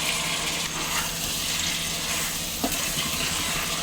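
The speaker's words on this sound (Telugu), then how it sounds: "ఒలిచి పెట్టుకున్న చామ గడ్డలని వేసేసుకుందాం చామ దుంపలు వేసేసుకుని ఒకసారి మిక్స్ చేసుకుందాం" Peeled taro root pieces frying with onions in a thick-bottomed pan, a loud, dense, continuous sizzle with occasional stirring scrapes, close up and without speech.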